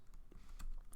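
Soft typing on a computer keyboard, a quick patter of several key clicks in about a second, faint and close with no speech.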